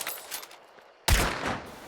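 Gunfire in the video game Hunt Showdown: a quiet stretch broken by one loud, sharp shot with a deep low-end boom, followed by a long rumbling tail and scattered further reports.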